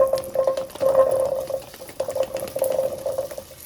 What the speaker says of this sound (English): We're just gonna let them pan fry in that little layer until they get some color on them.